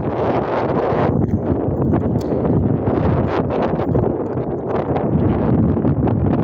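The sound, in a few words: wind while biking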